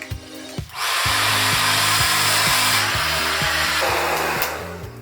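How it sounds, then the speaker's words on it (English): A hair dryer blowing a man's hair into a swept-back style, starting after a brief pause and then roaring steadily and loudly close up, with its pitch and airflow shifting slightly as it moves. "we can take our fingers and blow dry it just back, lifting up and back"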